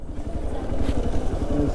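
A ferry boat crossing Chilika Lake in Odisha, its engine chugging in a low steady throb close by, with voices talking over it.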